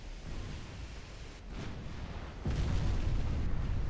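Torpedo hits and explosions in a naval warfare game on a USA long campaign, a continuous heavy rumble of booms that swells louder near the end, with no talk.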